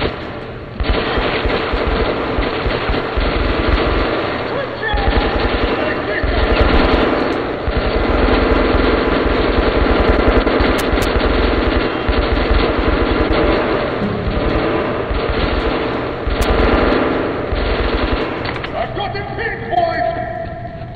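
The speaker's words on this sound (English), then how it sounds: "Bust out the old shotgun." Shotgun fire in Metro Last Light Redux: loud, rapid blasts and heavy gunfire fill the scene almost continuously, with voices mixed in among the shots.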